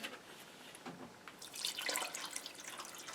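Water pours into a gel recipe mixture in a faint, soft trickle that swells into a brighter splash midway, then settles, with no talking.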